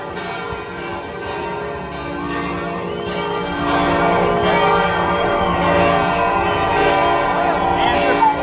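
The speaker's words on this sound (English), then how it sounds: "The bell towers have just erupted in support of the protesters." Church bells ring continuously in overlapping peals, loud and reverberant, with protest crowd noise and voices underneath throughout.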